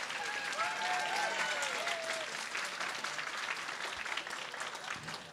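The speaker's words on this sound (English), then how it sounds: "so please give him a huge round of applause." A large audience at a student journalism awards night in Exeter breaks into sustained, even applause that fills the room steadily throughout, with a few faint whistles or voices early on.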